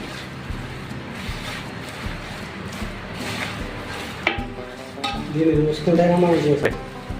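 Biryani chicken pieces are tossed by hand with salt, chili and masala in a restaurant kitchen, making continuous wet squelching and rustling up close, with a brief voice and clatter near the end.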